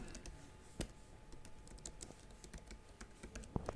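Typing on a computer keyboard, a quiet run of irregular key clicks with a few sharper taps, close and with no voice over it.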